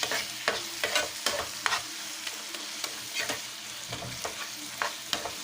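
Masala gravy for pea kurma sautés in a pan, a spoon stirring and scraping in irregular bursts over a soft continuous sizzle, close by, with no talking.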